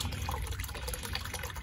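Water splashing and babbling steadily in a garden pond, a continuous liquid burble that stays fairly close, with no voices.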